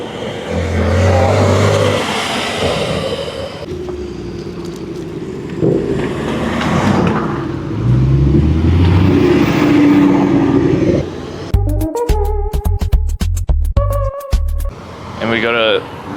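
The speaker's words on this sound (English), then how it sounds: "there are lots of cars rolling in now" Supercars roll into a gathering at a bakery, engines rumbling and revving with sharp crackling bursts, under someone talking throughout.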